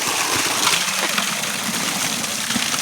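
Water from a farm pump gushes hard and steadily into a metal pot beside a paddy nursery, a continuous loud splashing rush over a low motor hum.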